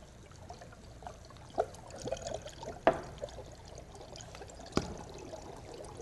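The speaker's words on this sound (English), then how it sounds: "So I'm going to pour some out" Coloured dry ice solution poured from one beaker into another, giving a faint, low-level liquid pour with a few soft clinks and splashes and no talking.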